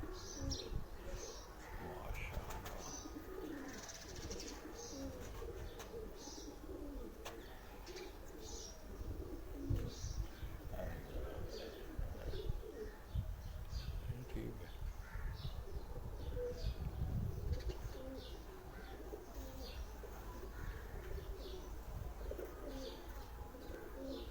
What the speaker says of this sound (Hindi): उनके हाथ में ये जो बादशाह ब्रीड के कबूतर हैं